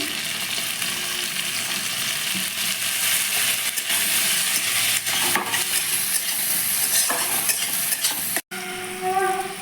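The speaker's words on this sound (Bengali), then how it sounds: "এবার টমেটো কেটে রেখেছিলাম কুচি করে এখানে একটা টমেটো আছে সেটা দিয়ে দিচ্ছি" Chopped tomato stirred into fried onion in a pan for prawn kaliya sizzles loudly and continuously, with scraping stirs throughout and a brief silent gap near the end.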